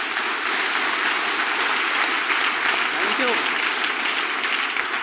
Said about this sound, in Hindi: आप लोग जोरदार तालियां मेरे दोस्त बजा लीजिए, जोरदार तालियां